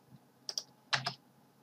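A few keystrokes on a computer keyboard while drawing a polyline in AutoCAD 2020: two pairs of sharp, close clicks about half a second apart, then quiet.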